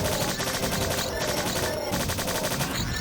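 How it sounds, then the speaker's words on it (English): Rapid machine-gun bursts crackle in the game Strife, with the weapon aimed at robots, as repeated loud gunfire pops run through the whole few seconds with short pauses between strings of shots. "Now you can fire your machine gun in short bursts in order to maintain accuracy"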